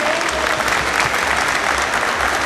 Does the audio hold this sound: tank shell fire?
no